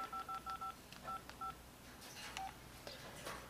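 Keypad tones from an LG Remarq phone as a number is entered: a quick run of short, even beeps, then a few more spaced presses, faint and close, with handling noise after.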